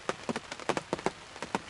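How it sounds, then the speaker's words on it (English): Heavy spring rain pours down in the woods during a turkey hunt, a steady dense patter of drops drumming on surfaces with no voices. "It's raining its butt off."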